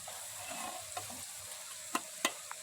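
Shukto cooks in a pot at an outdoor field kitchen, giving a faint steady sizzle with a few sharp stirring knocks against the pot near the end.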